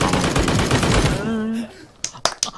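A player shooting in a video game: rapid automatic fire at first, then a short pause and a few sharp separate shots, loud and close.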